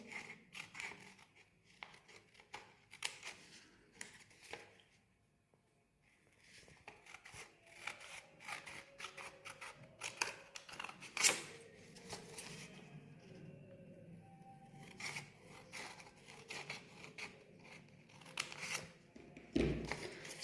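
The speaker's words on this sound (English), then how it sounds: "Cut it along all the 4 sides." Scissors cutting paper along four sides, with repeated crisp snips in irregular bursts and quiet pauses between strokes, close and fairly faint.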